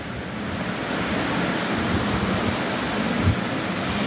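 Soybean chunks, soaked in hot water for fifteen minutes, drop into a pan of frying potatoes and set off a dense, continuous sizzle that stays loud and even throughout.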